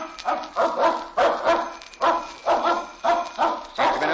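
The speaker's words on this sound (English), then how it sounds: "That must be the dog he told us about." Old-time radio drama dog-barking effect: a single dog barks in a steady, regular series of about ten loud woofs, close and clear, with no talking.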